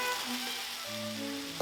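Meat sizzles in a pot as a base for soft tofu ramen, a steady close frying hiss with no talk.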